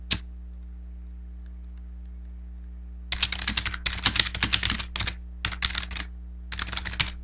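Computer keyboard typing, one isolated keystroke and then a pause, followed by bursts of rapid, close clicking that come in several short runs.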